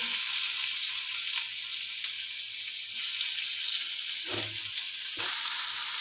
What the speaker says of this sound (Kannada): ಅದಕ್ಕೆ ಎಣ್ಣೆ ಹಾಕ್ಕೊಂಡು ನೋಡಿರಿ ಫ್ರೆಂಡ್ಸ್ ಈಗ ಅದಕ್ಕೆ ಬೆಳ್ಳುಳ್ಳಿ ಹಾಕ್ಕೊತೀನಿ